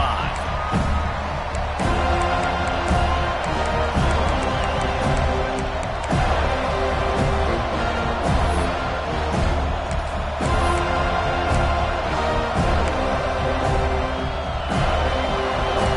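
Stadium crowd at an FSU football game roars in a dense, continuous wash of cheering and shouting that holds steady and loud for the whole stretch, without letting up.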